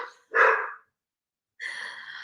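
A dog barks loudly twice up close indoors, each bark a rough, breathy burst separated by a second of silence.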